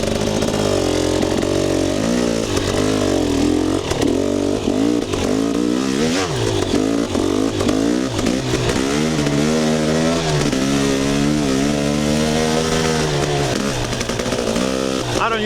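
KTM 300 XC two-stroke dirt bike ridden on wooded single track: loud, close engine buzzing continuously, rising and falling in pitch as the throttle opens and closes, with rider wind and a voice faintly underneath.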